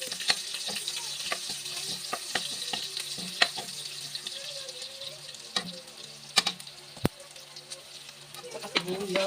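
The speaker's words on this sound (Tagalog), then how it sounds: "tapos ito na tayo mag-gigisa ng bawang" Garlic sautés in a pan for a bottle gourd stir-fry, a quiet hissing sizzle broken by scattered clinks and scrapes of a utensil, with faint voices murmuring in the background.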